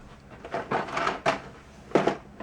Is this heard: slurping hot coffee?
no